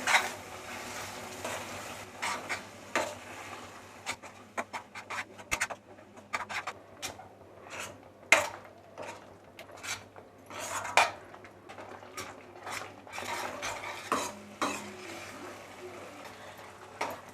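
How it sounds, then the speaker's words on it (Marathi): Spice paste for pomfret sukka sautéed in oil, with a spoon scraping and clinking against the pan in irregular strokes over a soft sizzle, fairly quiet and with no voices. "आता हे वाटण आहे ना ते तेलामध्ये आपल्याला चांगलं परतून घ्यायचं आहे"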